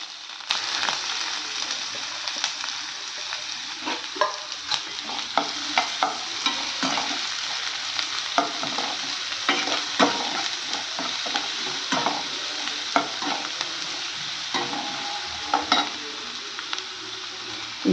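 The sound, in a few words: onions frying and being stirred for quail gravy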